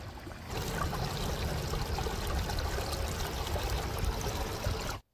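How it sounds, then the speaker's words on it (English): A creek rushes and burbles steadily over rocks at close range in the Ozarks, a full continuous flow that cuts off abruptly at the end. "I just love listening to the water."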